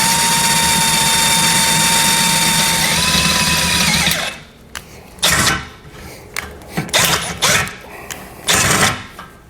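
A power drill bores a pilot hole while a winch is mounted on a 2020 Honda Pioneer 1000-5, one loud continuous whine for about four seconds, then several short bursts of tool noise.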